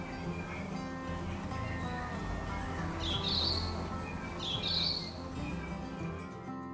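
Two brief bird calls ring out a second or so apart over a constant low rumbling background, fairly faint and some distance away.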